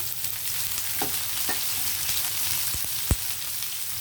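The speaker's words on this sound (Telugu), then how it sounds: "ఉల్లిపాయలు కూడా కొంచెం వేగనిద్దామండి అయితే ఉల్లిపాయలు వేగేటప్పుడే మనము పసుపు సాల్ట్ వేస్తే అవి కూడా త్వరగా వేగుతాయి పచ్చిమిర్చి కూడా వేసేస్తున్నానండి" Onions and green chillies frying in a pan of oil with turmeric and salt give a steady, close sizzle, punctuated by a few soft utensil clicks and one sharp tap near the end.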